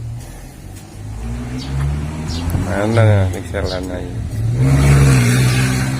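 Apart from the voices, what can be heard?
car passing by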